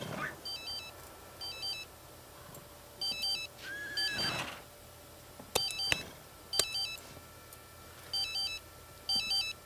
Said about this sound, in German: Ein Telefon.